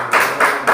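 A church congregation claps for Jesus during a Pentecostal sermon, three loud rhythmic bursts of hand claps in quick succession, close and full.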